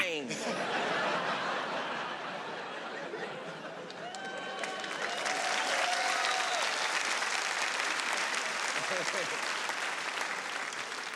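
Comedy show audience applauding and laughing, a crowd clapping steadily with chuckles, snickers and some chatter mixed in, while a performer's voice is heard at the start.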